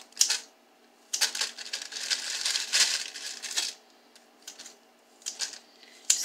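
Kitchen scissors cutting cooked chicken make crisp snipping and crunching sounds in short bursts and one longer stretch, close by, with pauses of quiet between cuts.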